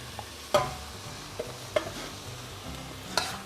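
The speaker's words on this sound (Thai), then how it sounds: "เดี๋ยวนี้ผมจะเติมน้ำลงไปอีกหน่อยนะครับ" Wild boar curry stir-fry in a pan makes a low, faint sizzle with several sharp scraping stirs and clinks as water goes in, no talking heard.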